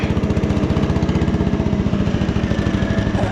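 An old riding lawn mower engine runs steadily and close by, with a rough, rapid pulsing throb that holds constant throughout and no voices over it.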